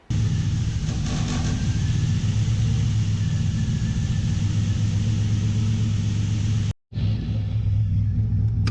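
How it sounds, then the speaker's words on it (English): A Mustang with an LS twin-turbo setup drives down a road in Mexico, its engine a loud, steady low rumble heard from inside the car, cut by a brief dropout near the end. "go down the road for the first time ever with the LS twin turbo setup"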